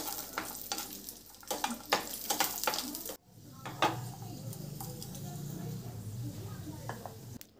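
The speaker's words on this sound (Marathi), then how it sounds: "1 चमचा तूप टाकून काजू पण तांबूस कलर येईपर्यंत भाजून घ्यायचे आहेत." Cashews roast in a spoonful of ghee in a pan with a soft, steady sizzle, while stirring scrapes and utensil clinks tap through it and a voice talks over the cooking.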